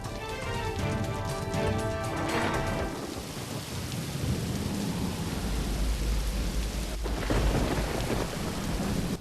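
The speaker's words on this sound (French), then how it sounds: "Il pleut si fort que je n'arrive même pas à arriver jusqu'à ma voiture." Heavy rain pours steadily throughout, with deep rolling thunder rumbling loudly across the first few seconds and again near the end.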